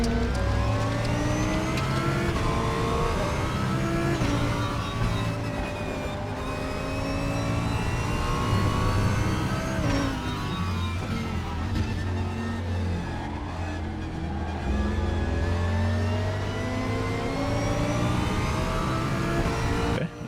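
Super GT race car engine in the RaceRoom racing game at Sepang, revving loudly and continuously with rising and falling pitch as gears shift, a dense sustained roar with no talk.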